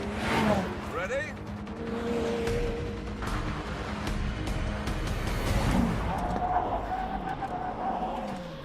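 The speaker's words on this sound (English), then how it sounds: "driving alongside a Jaguar F-Type at 100 miles an hour, and when we get to that cone down there, we're both going to brake." A McLaren Senna running alongside a Jaguar F-Type at 100 mph, both braking hard at a cone: loud wind and engine roar with tire and brake noise that settles toward the end, voices talking over it.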